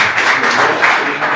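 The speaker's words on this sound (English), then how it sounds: "So big hands and applause, guys, for Gil Alush" Conference audience applauding a speaker at a sales agency growth summit, a dense, steady wash of many hands clapping at close range throughout, with no voices over it.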